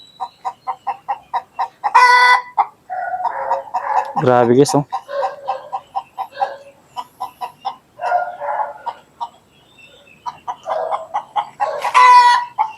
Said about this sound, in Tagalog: may manok pa sa taas oh.